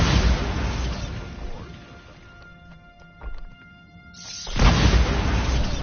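Bombarda blasting spell in Hogwarts Legacy, heard as a broad booming burst with a crackling tail in the middle of continuous loud game ambience, followed by a second heavy surge near the end.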